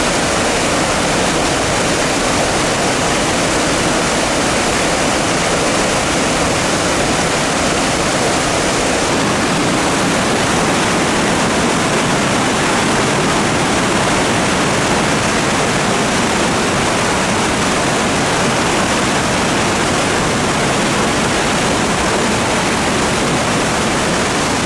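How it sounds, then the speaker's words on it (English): The swollen River Blavet in the French countryside, high after several days of rain, roars past a bridge in a loud, continuous, unbroken rush of water. "showing the power of the water after a few days of rain"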